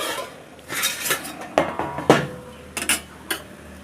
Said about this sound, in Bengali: ঢাকাটা উঠিয়ে দেখে নেব।